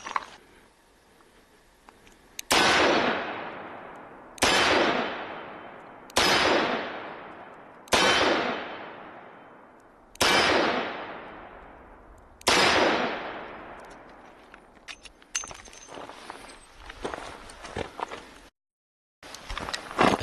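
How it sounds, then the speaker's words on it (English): A Smith & Wesson Model 19 .357 Magnum revolver fires six loud, booming shots at a slow, even pace, each ringing out and fading, followed by clicks and rattles of the cylinder being handled. "So these will be the last rounds out of this Smith & Wesson Model 19 in 357 Magnum."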